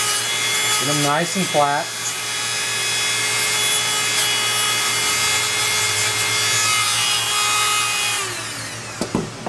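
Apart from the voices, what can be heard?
Dremel tool sanding edges of wooden gear parts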